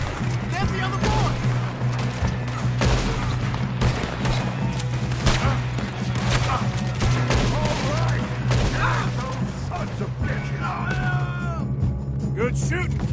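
Rapid video game gunfire in a Western shootout, dense overlapping shots and bursts running continuously under a steady background score, with characters' voices speaking throughout.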